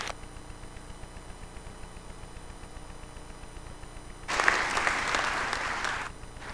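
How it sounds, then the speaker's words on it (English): Graduation ceremony audience breaks into a loud round of applause in a large hall, the clapping rising suddenly after a quiet stretch of room tone and lasting about two seconds before cutting off. "show their appreciation by joining with me in a round of applause for Mr. Nick Trump."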